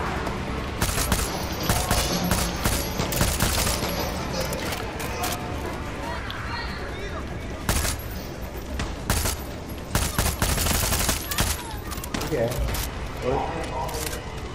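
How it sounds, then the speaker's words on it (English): Dense automatic machine gun fire in the shooter game Far Cry 6 rattles in long bursts through most of the stretch, loud and close, with brief gaps, while players talk over the shooting. "This machine gun is locking onto you."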